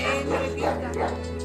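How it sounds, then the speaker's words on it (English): A panicking dog tangled in curtains lets out a quick string of yips, whimpers and short barks, close and fairly loud, in a brief frantic burst. "This poor dog somehow got stuck in the curtains, and it was panicking pretty badly"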